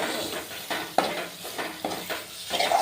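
Mushrooms, tomato and chili powder fry in a pan and are stirred, giving a steady sizzle broken by several sharp scrapes of a spoon against the pan, close and alone.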